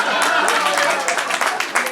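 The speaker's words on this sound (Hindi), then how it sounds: "तालियां।" Audience applause at a cultural programme at a school branch in Punjabi Bagh, steady clapping from a crowd for two seconds with voices mixed in.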